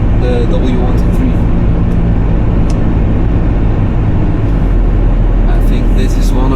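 A 1979 Mercedes W123 cruises steadily through the Friesland countryside, its engine and road rumble a loud, constant drone heard from inside the cabin.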